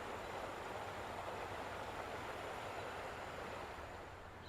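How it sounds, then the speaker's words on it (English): Rushing river water at a riverside park trail in Ellijay, Georgia, a steady, dense broadband roar of flowing water, continuous and even throughout with no talking. "I don't know if you can hear the rushing of the water out here"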